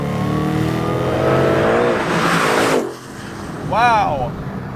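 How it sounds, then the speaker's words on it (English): Supercharged 700HP Terminator Mustang Cobra revving loud and close, with a rising engine roar building over about three seconds, a sudden drop, then a brief sharp rev; a person talks over it. "Oh, the supercharger whine"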